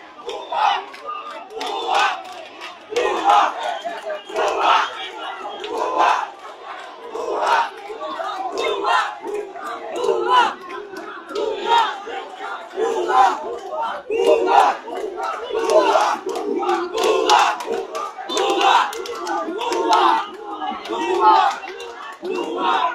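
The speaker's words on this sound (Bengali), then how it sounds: "এক পাশে স্লোগান দিচ্ছেন, অন্য পাশে ভুয়া ভুয়া স্লোগান দিচ্ছেন সাধারণ শিক্ষার্থীরা" Student protesters at Dhaka University chant a repeated slogan in rhythmic unison, loud massed voices rising and falling in regular bursts from a crowd facing a rival group.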